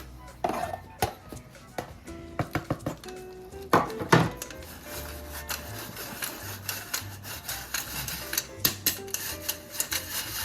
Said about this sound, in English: And I'm gonna sift that about 3 times